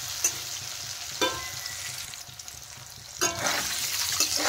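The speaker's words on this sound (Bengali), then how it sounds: "নেড়ে চেড়ে কিন্তু পনিরগুলো ভালো করে ভেজে নেব।" Paneer cubes frying in hot oil, a steady close sizzle broken by several sharp scraping stirs of a spatula against the pan, loud and alone.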